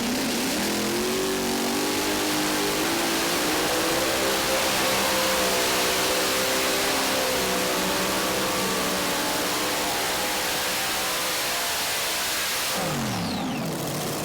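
A modified pulling tractor with a screw blower and an SES gearbox roars loud and steady through a pull at the 2023 Dairyland Super Nationals in Tomah, its engine pitch sweeping and wavering before it abruptly cuts and winds down near the end.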